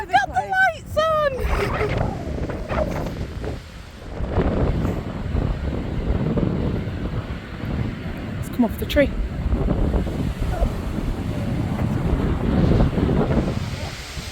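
Strong gusting wind during a wind storm at Alton Towers theme park, buffeting the microphone with a loud, steady low roar throughout, while people talk over it near the start.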